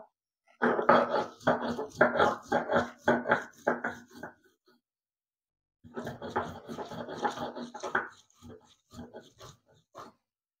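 Fried onions and green chilies are pounded into bharta with quick rhythmic thumps in two bursts separated by a pause, close and fairly loud.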